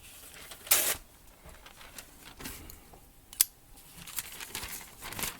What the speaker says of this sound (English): Let's see if I cut some phone paper